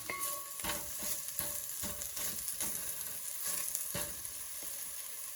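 Ginger sautéing in a hot pan for Ilocano pinakbet gives a steady, close frying sizzle with a run of rhythmic stirring scrapes, and no voices.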